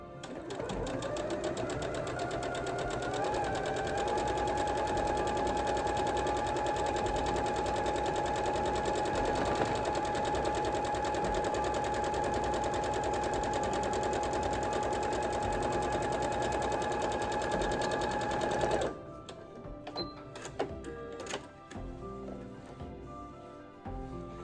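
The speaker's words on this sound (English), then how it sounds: "you're going to be stitching from your center" A sewing machine runs steadily, stitching quilt block pieces from center to corner. Its fast, even mechanical whir carries on continuously for most of the clip, close up, then cuts off near the end, leaving a few light handling clicks.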